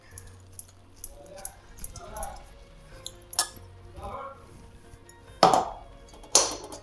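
A spoon stirs crushed peanuts into thick jaggery syrup for peanut chikki, producing scattered clinks and scraping taps against the pan at an irregular pace. A person talks over the stirring.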